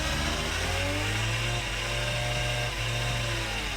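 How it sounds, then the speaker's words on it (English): A rebuilt BMW M6 V10 engine runs steadily and loudly, a continuous rough mechanical drone with a low hum throughout and no talk. "And the motor sounds a lot better."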